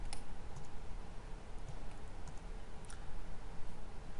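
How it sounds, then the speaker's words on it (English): Computer keyboard keys pressed while taking a screen capture, a few soft scattered clicks over a steady low hum in a quiet room. "Print screen on your keyboard."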